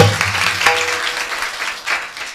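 An audience at a Marathi kirtan bursts into loud applause, with a fading musical tone underneath at the start. The clapping swells, dips, then rises again in a dense crowd patter.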